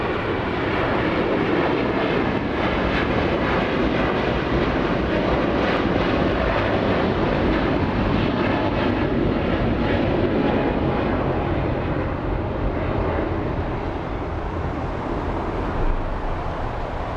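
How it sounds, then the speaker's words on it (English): A Qatar Airways Airbus A350-1000 bound for Doha takes off from Los Angeles International Airport, a loud, steady jet roar that fills the whole clip with broadband rumble and slowly eases toward the end. "there goes Qatar flying back home, flying to Doha City in A350-1000"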